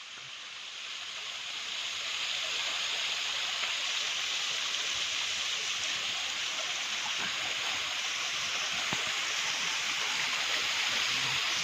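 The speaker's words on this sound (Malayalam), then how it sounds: "നമ്മുടെ കാടിൻ്റെ ഉൾഭാഗത്തുനിന്ന് വരുന്ന ചെറിയൊരു വെള്ളച്ചാട്ടം." A small waterfall flowing out of deep forest, on the way to Sabarimala, makes a steady, even rush of splashing water that swells in over the first moments and then holds constant, with no voices.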